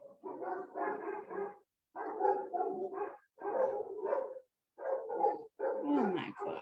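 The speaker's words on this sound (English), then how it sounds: "I have no idea why these dogs are like screaming." Several dogs bark and yelp in five rapid, fairly distant volleys separated by short pauses, with no one talking.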